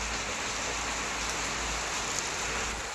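Heavy monsoon rain falls in a steady, dense hiss close by, unbroken and even for the full few seconds with no voices.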